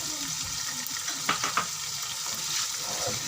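Chicken sizzles and fries in a pan for a haleem dish, a constant crackling hiss with a few louder spatters and stirring scrapes near the middle, close and without talk.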